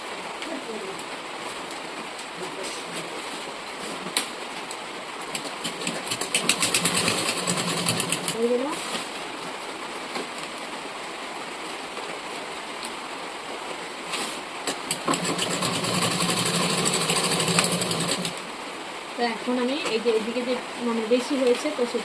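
A sewing machine stitching a bag made from a cement sack, its motor whirring in bursts of steady running that stop and start over a faint background hiss.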